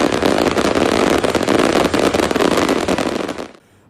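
Fireworks at a national day celebration attended by a large crowd, a dense continuous crackle of bursts and pops lasting several seconds, loud and close, then cutting off abruptly near the end.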